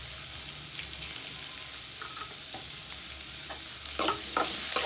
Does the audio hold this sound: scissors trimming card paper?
no